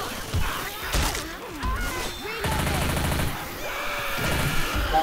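Gunfire from computer-controlled characters in the video game Left 4 Dead 2, bursts of rapid shots with a sustained stretch of fire in the middle, mixed with game noise and honk-like sounds.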